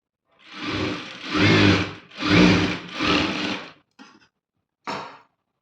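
A sewing machine runs in three steady bursts while stitching a blouse seam, each whirring run rising and falling, followed by two brief clicks as the needle stops; no voices.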